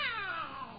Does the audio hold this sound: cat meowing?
yes